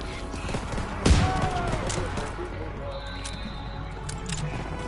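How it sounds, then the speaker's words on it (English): Gunfire in the Call of Duty WW2 video game, one sharp loud blast followed by continuous battle noise and clatter, with voices underneath. "I'm using the shotgun now."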